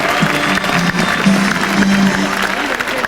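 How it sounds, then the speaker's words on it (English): A crowd at a marine life park gives loud, sustained applause with a little cheering mixed in, dense and continuous throughout. "Have a big round of applause for Honorary James from Massachusetts, Bill."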